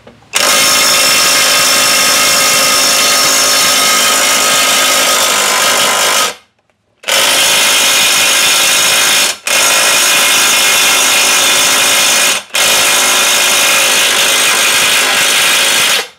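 A DCK KDPB488 20V cordless brushless impact wrench rated 488 Nm runs in its highest mode, loud and continuous, in four long bursts separated by short pauses.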